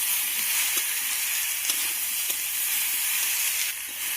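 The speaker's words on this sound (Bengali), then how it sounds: "এখন আমি সব কিছু আবারও ভালো করে নেড়ে চেড়ে কষিয়ে নেব।" Soft green banana pieces and mixed vegetables stir-fried in a pan, a continuous hissing sizzle with a few faint stirring clicks, steady and fairly close throughout.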